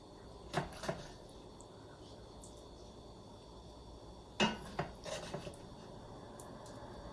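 Clinks and scrapes of a serving utensil against a dish while beef stew in a wine and tomato sauce is ladled onto homemade bread, a few soft knocks spaced over quiet room tone.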